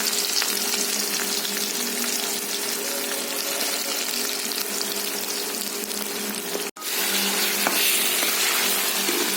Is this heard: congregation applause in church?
no